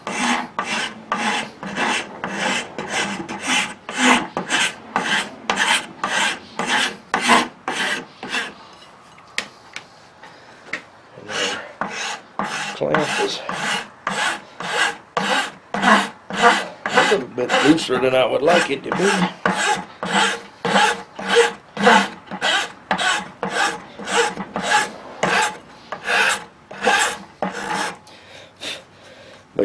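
Metal blade of a custom knife from a flint-and-steel kit being hand-filed, a loud, steady train of regular rasping strokes with a brief pause around the tenth second, and a short remark spoken partway through.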